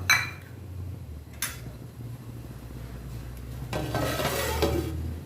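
Bajra flour mixture being stirred in a pan over low heat, a few sharp scrapes of a spoon against the pan followed by a soft, rising sizzle and rustle near the end, close by and quiet, with no talking.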